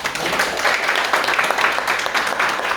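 An audience claps steadily at a mini-lecture held in a community welfare centre in Daejeon, a dense, sustained round of applause filling the room without pause.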